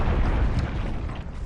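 A frag grenade blast in a first-person shooter, a loud, deep explosion with a heavy low rumble that fills the short moment and fades slightly at the end.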